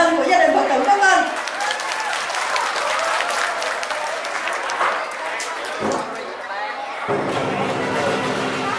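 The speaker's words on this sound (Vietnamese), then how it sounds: "Xin quý vị một tràng pháo tay cho đoàn lân của gia đình Phật tử Pháp Vân." A crowd at a Lunar New Year celebration at a Buddhist temple applauds a lion dance troupe with sustained clapping that runs for several seconds and slowly thins out.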